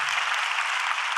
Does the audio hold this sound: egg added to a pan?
no